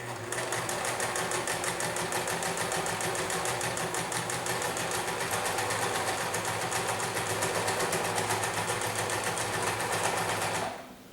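A sewing machine stitching the border of a cotton mask, a loud, fast, continuous mechanical whirring with rapid even needle clatter that runs nearly nonstop before cutting off abruptly at the end.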